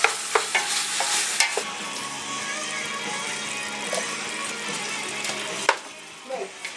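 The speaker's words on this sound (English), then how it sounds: "Now you kind of just want to mix everything together. You want to get that meat kind of brown, huh?" Ground meat for chili is stirred and browned in a pot, with repeated scraping spoon strokes and knocks over a steady, close sizzle of frying.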